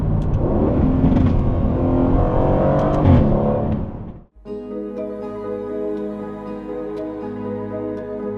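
An Aston Martin Vantage V8 engine, 2018-on generation, hums steadily with harmonic drone while driving, briefly swelling and dropping out before settling into a smooth, loud idle-like rumble.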